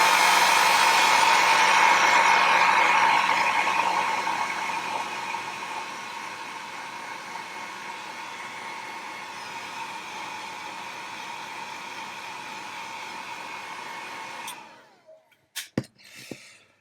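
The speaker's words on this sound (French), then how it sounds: "Je vais mettre un petit coup de sèche-cheveux." A hair dryer blows steadily on a freshly painted miniature, a loud rushing whoosh that eases partway through, then cuts off, followed by a few sharp clicks and knocks.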